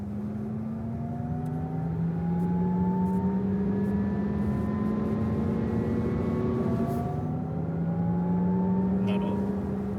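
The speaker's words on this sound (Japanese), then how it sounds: "目指したのは車の走行状態が音で分かり、かつモーターの音も生かした RZ 独自の音。" Synthesized driving sound of a Lexus RZ electric car that blends in real electric motor sound: a steady, loud layered hum with several rising and falling tonal sweeps, continuous over the whole stretch with no talking.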